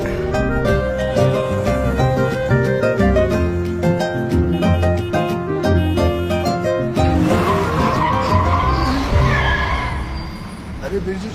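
A car driven hard at speed, its tires skidding and squealing in a loud, continuous screech over engine noise, with a rising, harsher squeal near the end.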